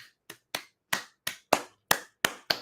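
Gullah-style rhythmic hand clapping, nine sharp claps in a steady, slightly uneven beat, close and clear with no singing or voices audible.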